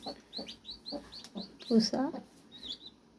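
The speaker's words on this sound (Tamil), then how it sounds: "கோழி குஞ்சுங்க வந்திருக்காங்க." Day-old black hen chicks cheep in quick, high, repeated peeps close by, with one person speaking softly over them.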